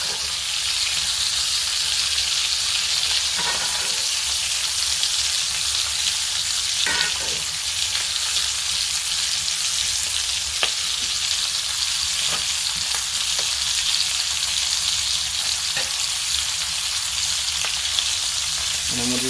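Butter sizzling in a hot pan with ribeye steaks during a reverse sear, a steady loud frying hiss throughout with occasional soft clicks of the pan, no talking.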